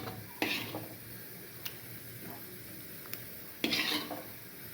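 Egg and gram flour curry, hot from the pan, is ladled out, with soft scraping and a few clinks of a spoon against the vessel over a steady sizzling hiss.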